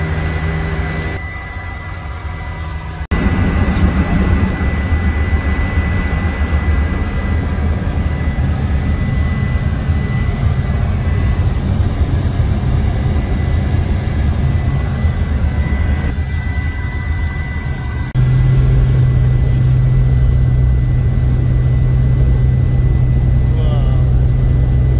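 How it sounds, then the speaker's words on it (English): Airplane cabin on a flight to Costa Rica, filled with a constant loud roar of jet engines and airflow that shifts in tone partway through, with brief muffled voices in the cabin. "We're in the airplane."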